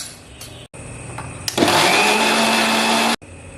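A kitchen grinder whirs loudly for about a second and a half, blending garlic cloves with ginger and a little water into paste, preceded by brief clicks and lower motor hum, then stopping abruptly.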